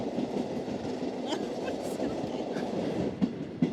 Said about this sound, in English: the little train heads for Pinhão, very close to the Spanish border